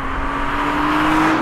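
An Audi RS 5 Coupé engine holds a loud, steady high-revving tone that rises slightly, close and sustained.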